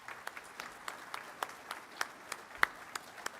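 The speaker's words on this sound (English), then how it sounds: "Let's give him one more round of applause" Sparse, distant clapping from a commencement audience at a career and technical college ceremony, a few separate claps spaced unevenly and faint rather than a full ovation.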